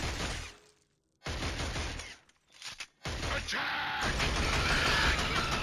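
Gunfire in the Killzone video game during a pinned-down firefight: bursts of rapid automatic shots and crackling impacts, loud and close, broken by brief silent gaps, then a sustained heavy barrage.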